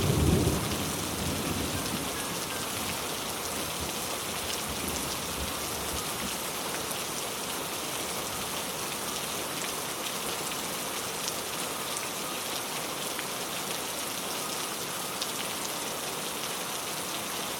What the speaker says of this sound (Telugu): సో రెడీ అయిపోయాక బయట చాలా అంటే చాలా వర్షం స్టార్ట్ అయ్యింది.